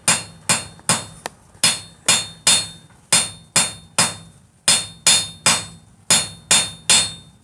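Loud, ringing hammer strikes forging metal, delivered in quick pairs and triplets with short pauses, each blow sharp and resonant.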